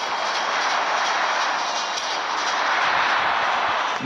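A constant jet-like airplane engine roar in the video game Free Fire holds steady throughout, loud and even, with a slight synthetic evenness.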